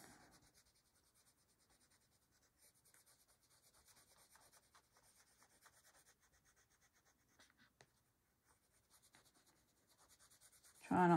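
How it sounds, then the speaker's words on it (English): A pencil colours in a page of a prayer Bible, giving faint, steady scratchy strokes in quick repeated rhythm, quiet and close, ending with a louder rustle. "Let's get our colour on the paper."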